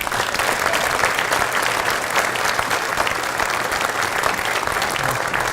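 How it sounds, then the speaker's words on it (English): An audience at a high school Hall of Fame induction banquet claps in sustained, dense applause that stays loud and even throughout, with no break. "give them a round of applause."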